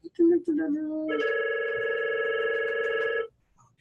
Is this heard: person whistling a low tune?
no